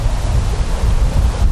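Strong wind roars steadily across an open golf range, a continuous low buffeting rush with broadband hiss and no pauses, loud and close.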